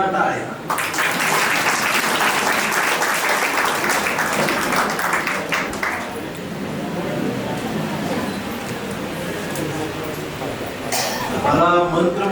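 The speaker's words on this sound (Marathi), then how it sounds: "वाजवा टाळ्या" Audience applause at a tribal community students' felicitation ceremony in Pune, a loud sustained round of clapping filling the hall for most of the stretch, easing slightly midway and swelling again near the end, with voices mixed in.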